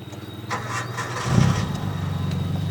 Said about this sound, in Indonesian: Kita sekarang coba untuk menyalakan mesin.